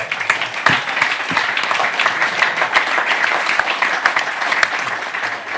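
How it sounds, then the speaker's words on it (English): Sustained audience applause and clapping at a post-race debrief honoring a Cocodona 250 ultramarathon champion, dense and steady throughout with scattered sharp claps, no talk over it. "that was a round of applause"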